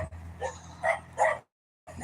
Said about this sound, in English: Look at them pretty little puppies.